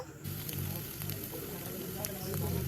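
Whole cumin seeds and a ground spice paste frying in hot oil for a pointed gourd masala, giving a soft, steady sizzle under a low background murmur.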